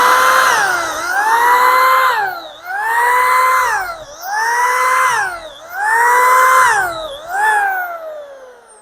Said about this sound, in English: My drill, I turn it on and let it run the whole time.